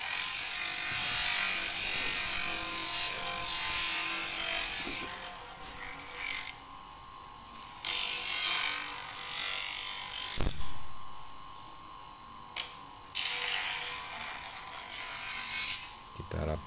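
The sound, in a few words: bench grinder smoothing cut end of PVC pipe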